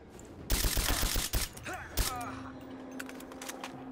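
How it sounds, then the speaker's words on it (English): Gunfire from the video game Rise of the Tomb Raider, a rapid burst of shots followed by a couple of sharp single reports, close and loud, with mechanical clatter afterwards. "I didn't want to be shooting you guys at all."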